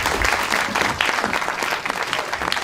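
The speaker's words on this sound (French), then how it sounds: "Sous vos applaudissements, merci." Audience applause at an employment conference as a speaker is welcomed, a dense, lively patter of many hands filling the room for a couple of seconds.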